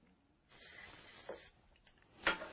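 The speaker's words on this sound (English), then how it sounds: "you'll want to apply a film of a drying lubricant like Bow Shield T9 up" One-second aerosol spray hiss of Boeshield T9 drying lubricant into a drill chuck, close and clear, followed by faint clicks and a brief second puff.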